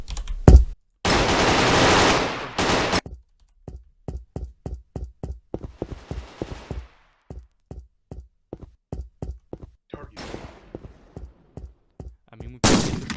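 Gunfire from bots in the first-person shooter MMFPSE: a rapid run of sharp, evenly spaced shots after a few long blasts, loud and close, with no talking.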